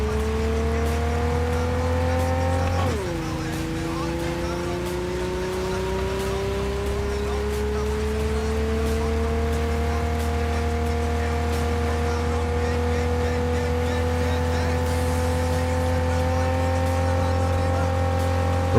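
A steady droning car engine in Cyberpunk 2077 with a low hum, dropping in pitch after a shift and then slowly climbing as it accelerates, under constant rain-like hiss.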